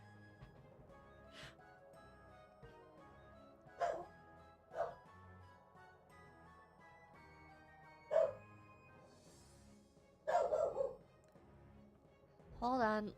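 A pet dog barking indoors, a handful of separate woofs and short bursts spaced irregularly, fairly close, with a person talking in between.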